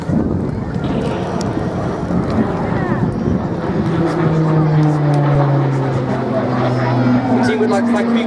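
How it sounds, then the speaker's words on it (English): The Garrett TPE turboprop engine of an RAF Tucano drones loudly and steadily with a rising whine during an airshow display at Biggin Hill, its pitch shifting as it passes close by. "fantastic noise you'll hear throughout the display is the operated Garrett TPE turboprop engine fitted to the RAF"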